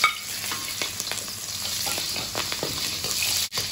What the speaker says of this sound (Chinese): 爆姜啊